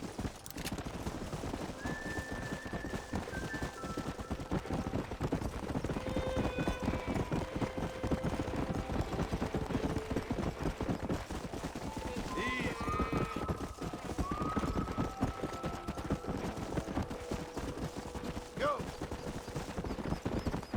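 Horse hooves clip-clop at a steady walking rhythm in the Red Dead Redemption video game, with an occasional neigh over continuous ambient game sound and faint music tones.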